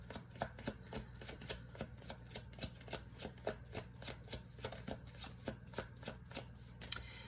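A deck of cards shuffled in a quick, steady run of soft flicking taps, close but quiet, continuing evenly for several seconds with no talk.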